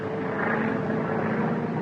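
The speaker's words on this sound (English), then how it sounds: "It's a government plane." A propeller plane drones steadily overhead, a continuous, even engine hum with a faint tonal whine, fairly loud and unchanging throughout.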